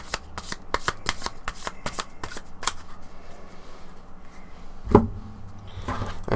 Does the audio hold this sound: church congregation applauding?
no